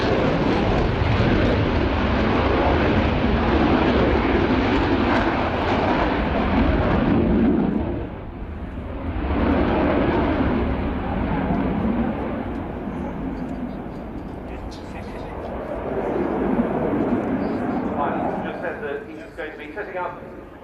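A Spanish Air Force Eurofighter Typhoon flying a display at an airshow, a loud continuous jet roar that swells and dips as the fighter passes, with a commentator talking over it.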